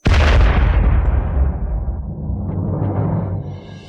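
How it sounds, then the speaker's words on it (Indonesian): The Shenwu great cannon fires with a huge deep boom, its heavy low rumble rolling on and slowly fading over several seconds, with no voices over it. "Suara apa itu? Meriam besar Shenwu."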